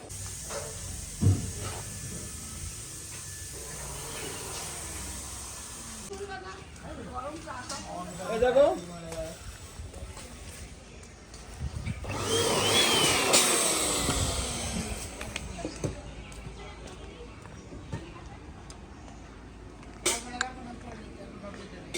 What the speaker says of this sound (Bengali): জাস্ট একটু প্রেশার কুকারটা এরকম হয়েছে